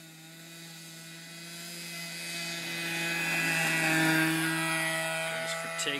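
A Hangar-9 P-51 radio-controlled model airplane engine runs at a steady high-pitched whine on its takeoff run from thick grass, swelling gradually louder and then easing slightly near the end.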